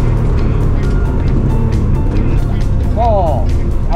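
A Nissan Laurel engine drones loudly on Honjo Circuit during heel-and-toe practice, with a rising rev blip near the end while an instructor talks over it.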